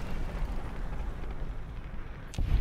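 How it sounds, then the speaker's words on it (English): In Fallout: New Vegas, an energy weapon kill sets off a green explosion death effect: a steady roaring rumble that ends in a sharp burst. "it also adds a little death effect, which is that green explosion that wouldn't normally happen"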